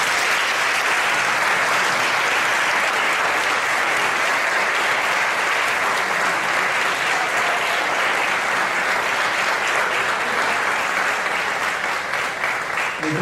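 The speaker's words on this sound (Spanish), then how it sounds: "Un fuerte aplauso." Loud, dense audience applause fills a ceremony where the 2013 Aceituna de Plata award is presented by a religious brotherhood, sustained and steady throughout without a break.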